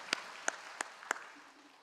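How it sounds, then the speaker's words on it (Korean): Four sharp, separate hand claps ring out about a third of a second apart during a Korean church service with a pastor leading, fairly faint against a quiet, reverberant background. "우리 하나님께 영광과 감사의 박수 올려드리며"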